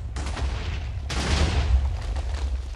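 Railgun firing in the Minecraft RotaryCraft mod, two loud booming blasts with rumbling low-end tails, the second heavier and sustained, with no voices over them.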